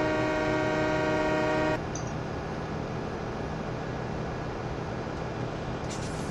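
In a farming video game on the Goldcrest Valley map, a train horn blares in one sustained tone for under two seconds, then a steady low rumble of the train rolling continues alone.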